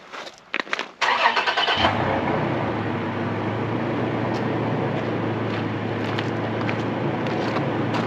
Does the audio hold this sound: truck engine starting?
yes